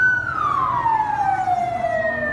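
Fire truck siren wailing as it arrives at a burning house in Savannakhet, Laos, a loud close tone sliding steadily downward in pitch over a low rumble of road noise.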